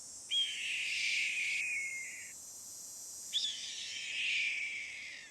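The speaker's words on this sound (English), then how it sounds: "Red-tailed hawk." Red-tailed hawk call from a Nancy Drew game: two long, harsh, raspy descending screams, each lasting over a second, loud and near against a quiet background.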